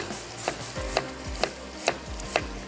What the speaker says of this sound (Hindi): ये आ गए हमारे पास टमाटर और ये एक अदद प्याज है तो मैं इसकी भी स्लाइस कर लेती हूँ।